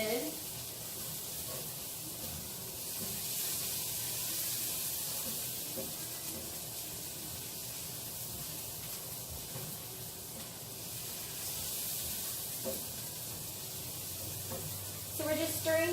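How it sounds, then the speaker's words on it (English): Vegetables sizzle steadily in a hot frying pan while being stirred, a continuous close hiss with occasional scraping, and a voice speaks briefly near the end. "So we're just stirring the vegetables"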